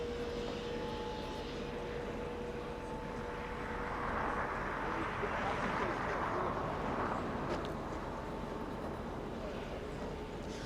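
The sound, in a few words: Delta jet airliner arriving at LAX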